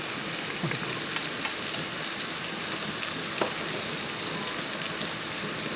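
Green chillies and tomato fry in a pan for a papaya curry, giving a faint, even sizzle with scattered soft crackles and no talking.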